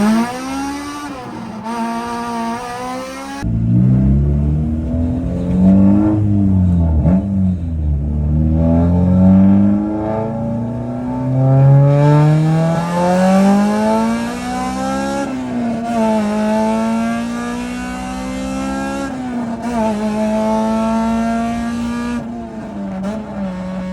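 A K-series Honda Civic accelerates hard, its engine revving loud and close in repeated rising pitch sweeps as it climbs through the gears, with no talk over it.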